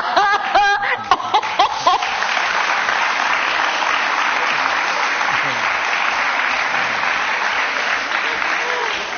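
A theater audience at a Turkish stage comedy show bursts into loud, sustained applause. A voice and some chuckles come through at the start, then dense, even clapping continues throughout.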